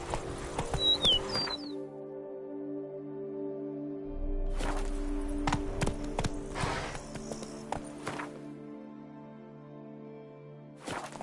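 A horse's hooves in the Witcher 3 video game clip-clop in a quick rhythm, loud and close, over a sustained musical drone, with a brief whinny-like sound near the start and no talking.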